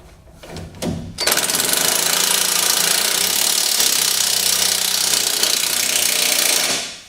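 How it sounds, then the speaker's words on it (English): Impact wrench removing a nut during a front shock replacement: a few short taps, then one loud, continuous rapid hammering burst of about five and a half seconds, close by and with no talk. "I will use the ratchet or carefully the impact."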